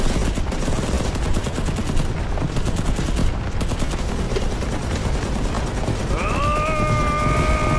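Sustained rapid automatic gunfire in the video game Battlefield 2022, loud and continuous bursts, with a tonal electronic beeping entering near the end.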